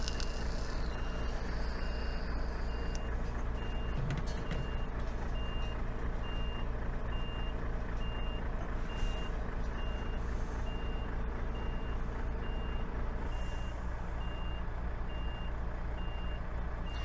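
A road roller reversing on a steep road, emitting a steady series of evenly spaced beeps over a constant diesel engine rumble, moderately near and continuing without speech.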